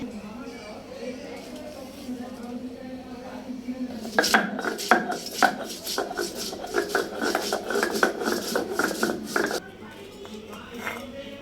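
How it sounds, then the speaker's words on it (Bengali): Soaked dried red chilies are ground on a flat stone with a stone pestle, making a burst of rough, rhythmic scraping strokes that start abruptly, continue for several seconds close up, then stop. "আর এই যে শুকনা মরিচ এটা আমি বেটে নেব এটা ভিজিয়ে রেখেছিলাম"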